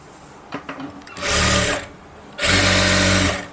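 Sewing machine stitching invisible piping onto a blouse: two loud, steady bursts of motor whir, the first about half a second long and the second about a second long, separated by a short pause and preceded by faint handling clicks.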